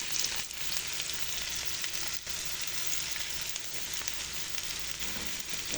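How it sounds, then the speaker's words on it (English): Onions sautéing with curry sizzle softly in a pan, a faint and steady crackling hiss with a few light stirring ticks. "I like to saute up the onions and get out some of the flavor out of the curry"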